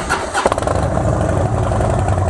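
A hot Harley-Davidson engine cranks and fires without the clutch pulled, giving a loud, close starter churn that catches into a rough, pulsing idle within about two seconds.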